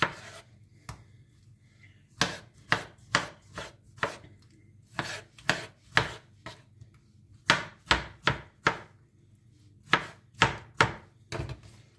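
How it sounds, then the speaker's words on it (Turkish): Sharp knife strikes on a cutting board while chopping potatoes come in quick bursts of three or four, separated by brief pauses, close and crisp with no talking. "Patateslerimizi doğrayacağız."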